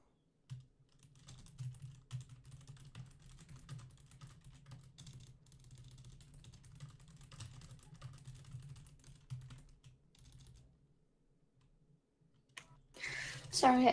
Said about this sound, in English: Oh, typing.